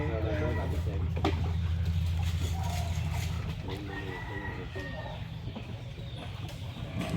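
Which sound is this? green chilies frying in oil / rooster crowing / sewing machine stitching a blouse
rooster crowing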